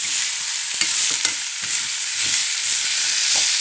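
A spoon stirs two ingredients together in a hot frying pan for a Sri Lankan cabbage tempered dish, scraping and clicking softly several times over a steady, close oil sizzle.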